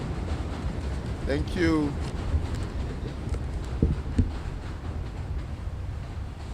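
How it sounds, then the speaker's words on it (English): A train passing by outdoors in Brownsville, Brooklyn, with a steady rumbling roar and a brief squeal under someone speaking at a public event. "Train go by."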